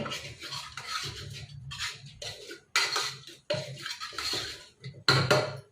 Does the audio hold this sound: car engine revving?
no